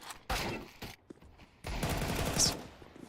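FAMAS fire in Counter-Strike sounds as fast, quiet bursts of automatic shots, two short volleys and then a longer one, with brief silent gaps between them.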